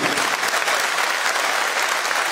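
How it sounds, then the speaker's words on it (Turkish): A seated municipal election rally audience in Muğla claps steadily, dense and loud, with no pauses across the whole stretch. "Bir alkış rica ediyorum."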